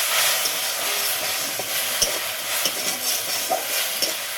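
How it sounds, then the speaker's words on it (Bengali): Onion and poppy seed paste with peanuts stirred in a pan on the stove, with a steady sizzling hiss and scattered scraping clicks of the spoon against the pan, close and continuous, with no voices. "এটাকে একটু আমি নাড়ানাড়ি করে নেব"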